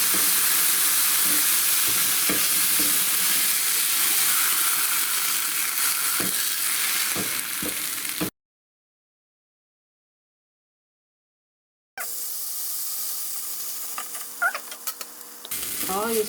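Birria beef fat sizzles in a very hot frying pan, a bright hiss that breaks off into silence midway, then resumes with crackles and light stirring.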